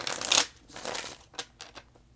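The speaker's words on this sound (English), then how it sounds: "Give her one more shuffle." Tarot cards being shuffled during a reading: a burst of crisp riffling and rustling up front, then softer scattered card slaps and flicks, close and moderately loud with no talking.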